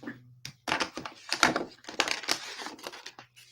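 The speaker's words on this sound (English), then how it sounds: "Just going to pop in, snip it off." Scissors snip a paper leaf away from a stamped card piece at close range, giving a run of short crisp cuts and clicks over a faint low hum.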